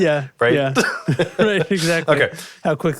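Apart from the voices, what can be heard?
No everyday noise stands out behind the speech.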